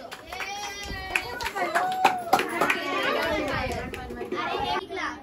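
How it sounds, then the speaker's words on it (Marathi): Children clap their hands in a scatter of sharp, uneven claps, mixed with lively children's chatter and voices close by. "टाळ्या वाजवा टाळ्या वाजवा टाळ्या वाजवा."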